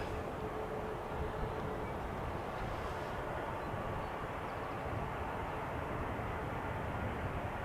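A steady, even roar from a KLM Cityhopper Embraer jet arriving on runway 18R at Amsterdam Schiphol Airport holds at constant moderate loudness, a broad rumbling wash with no clear approach or fade.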